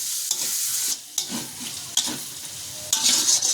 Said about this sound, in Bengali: শুটকিগুলো দিয়ে এখন ভালো করে ভেজে নেব।